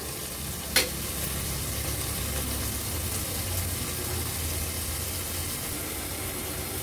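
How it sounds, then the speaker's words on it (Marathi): Mushrooms cooking in a pan over a medium flame, likely covered with a lid, give a steady, soft broadband sizzle with one brief sharp clink near the start. "आता एक 2 ते 3 मिनिटासाठी असेच आपण हे ठेवूया मीडियम फ्लेमवर, म्हणजे व्यवस्थित शिजले जातील"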